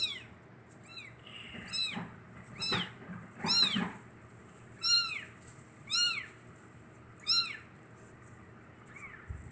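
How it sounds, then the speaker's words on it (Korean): A cat meows repeatedly, about seven rising-and-falling calls spaced a second or so apart, close by and fairly clear over quiet background. "야옹 소리가 들렸네요"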